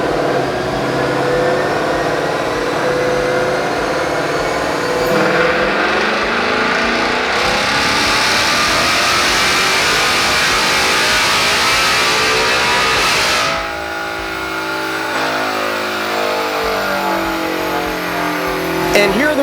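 A 2024 Ford Mustang GT running on a dyno with a Whipple calibration and Whipple Crusher intake, its engine revving hard and climbing in pitch over a long, loud pull, then dropping back and winding up again.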